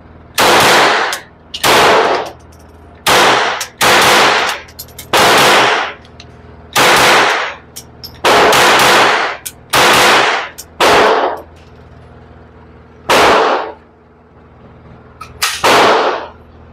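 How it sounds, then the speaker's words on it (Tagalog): A suppressed Taurus TX22 .22 pistol fires in quick bursts. Sharp, loud reports come close together, spread through the clip with short pauses between the groups. "Okay, nice naman siya sa rapid fire."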